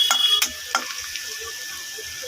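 Onion frying in oil in a pan for a Bengali katla fish and eggplant curry, a steady broadband sizzle with a few sharp crackles and spatters near the start, close and alone.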